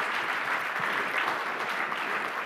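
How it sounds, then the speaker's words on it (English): A room full of people applauds a man named Bill after a birthday robot dance, a dense, steady wash of clapping that holds evenly throughout. "Give him a round of applause, everybody"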